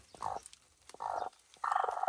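Three bursts of turkey hen calling, clucking and gobbling notes, each about a third of a second long and separated by short quiet gaps, close by and fairly loud.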